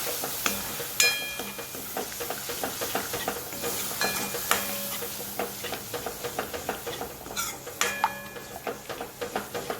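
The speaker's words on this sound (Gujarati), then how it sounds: "તેના અંદર આપણે નાખી દઈએ દહીં. એને પણ સરસ આપણે મિક્સ કરી લઈએ." Yogurt being stirred into a sizzling pan of garlic and green onion, a spoon scraping in steady repeated strokes close up over a continuous frying hiss.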